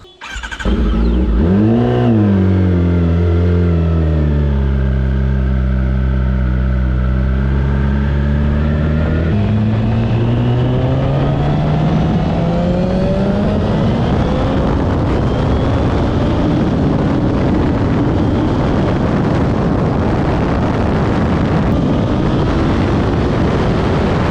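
Turbocharged Kawasaki ZX10R motorcycle engine starting and warming up: loud, close idle with a steady drone, then a higher fast idle that rises gradually as it warms, wind buffeting the mic.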